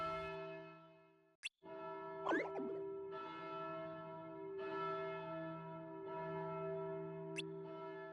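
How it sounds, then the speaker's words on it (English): Church bells from the video game Kingdom Hearts χ toll with rich, ringing harmonic tones over several seconds, each strike swelling and lingering, with a brief sharp break near the start. "And the bells toll,"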